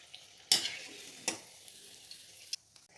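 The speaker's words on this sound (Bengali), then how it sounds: "এইরকম লাল লাল করে ভাজা হয়ে গেলে ছাঁকনির সাহায্যে তুলে নিতে হবে।" Bengali pitha deep-frying in oil until reddish, a soft continuous sizzle broken by a few sharp metallic taps of a strainer or spoon against the pan.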